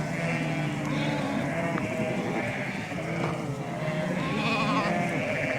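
A pen of ewes and lambs bleats constantly, overlapping calls of high lamb cries and deeper ewe voices from several animals nearby, with no speech.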